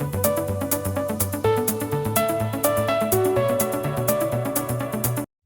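Original synth pluck part from a track, a fast rhythmic sequence of bright plucked notes over a steady thumping beat, loud and continuous before stopping abruptly.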